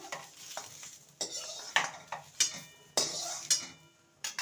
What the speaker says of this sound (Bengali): এবার এগুলোকে তুলে নেব